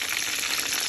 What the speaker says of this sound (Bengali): একটু বাদামি কালার আসা পর্যন্ত এগুলোকে ভাজতে হবে।